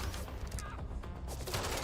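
Rapid gunfire in a shooter video game, dense continuous crackling shots with no pause, loud and close throughout.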